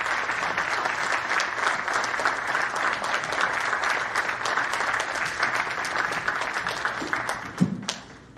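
Sustained applause from an audience for the chief guest, Ambassador Karanjit Singh Sandhu, at a live community event, a dense even clapping that carries on for several seconds and ends with a brief thump near the close.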